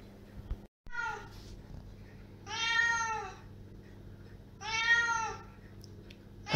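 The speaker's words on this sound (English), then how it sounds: "I think she can smell the meat and that's why she's meowing" A cat meows twice in a kitchen while burger meat is being prepared, each cry long and clear against a low steady background hum, with a brief clatter near the start.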